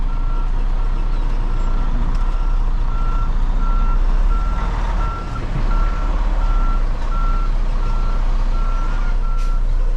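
A Pepsi delivery truck backs its trailer into a loading dock, the diesel engine idling loud and close beneath evenly spaced reversing beeps that repeat steadily throughout.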